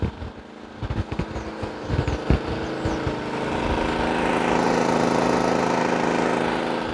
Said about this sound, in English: Right about 59 dB at half load. Real smooth sounding generator.